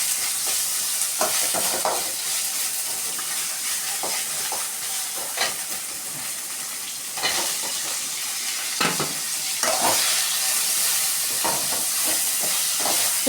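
Ginger-garlic paste frying in a pan for chicken thokku, giving a constant loud sizzle and hiss with occasional stirring scrapes, no voices.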